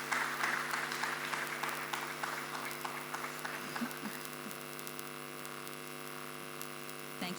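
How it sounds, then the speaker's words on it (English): Applause for a panelist at a business governance session, clapping strongest at the start and fading over several seconds, over a steady electrical hum. "Please, a round of applause for him"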